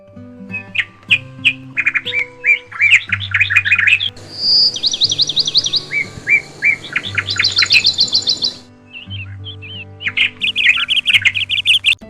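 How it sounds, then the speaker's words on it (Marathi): Dense, overlapping morning birdsong from a forest around a temple, with squawks, trills and bright chirps from several birds, loud and continuous throughout with no talking. "पक्ष्यांचे सुंदर आवाज जंगलातून येत होते"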